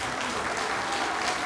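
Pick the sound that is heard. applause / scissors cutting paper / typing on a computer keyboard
applause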